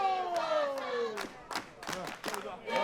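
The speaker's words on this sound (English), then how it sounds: "Listen to the crowd here." Crowd at an indoor wrestling event cheering and shouting, several rising yells and bursts of voices over steady tonal background noise, moderately distant.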